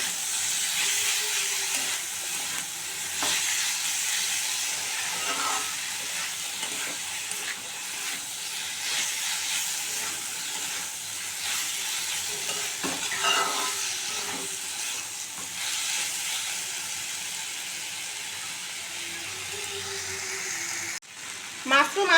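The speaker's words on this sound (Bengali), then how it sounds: "ভালো করে মাশরুমটার সাথে আলুটাকে ভালো করে কষিয়ে নেব আগে" Mushrooms and potatoes stir-fry in a pan with a steady, close sizzle and hiss, broken by occasional scrapes of stirring; a brief clatter lands near the end.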